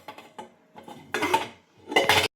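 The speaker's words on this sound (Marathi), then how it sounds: "इकडं मी भांडी घासायला घेतल्यात" Metal pots and utensils being washed by hand, with quiet clinks at first and then two louder clattering bursts of scraping and knocking, close by.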